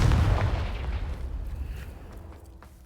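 A Confringo spell explosion in Hogwarts Legacy opens with a heavy, close boom, then its rumbling tail decays over a few seconds into quiet, with no talk.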